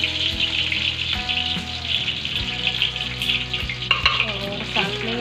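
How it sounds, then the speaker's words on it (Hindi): Dal tempering with onion and chili sizzles and frying in a home kitchen pan, a steady close hiss with stirring scrapes and small clinks, no voices. "तो बस यहाँ पर मेरी दाल बघर रही है"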